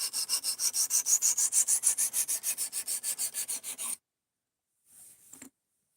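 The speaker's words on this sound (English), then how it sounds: "I'm going through the frustrating first stage of sharpening D2" A D2 steel knife blade is stroked across a sharpening stone in a quick, even rhythm of about two dozen close rasping strokes, then stops, leaving near silence with one faint scrape.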